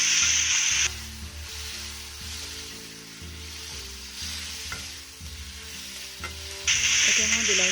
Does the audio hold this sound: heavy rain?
no